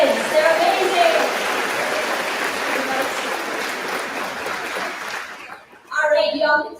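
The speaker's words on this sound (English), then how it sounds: "can we give a final round of applause to these students?" Graduation ceremony audience applauding students: dense, sustained clapping from a large crowd that tapers off, then a voice speaks briefly at the end.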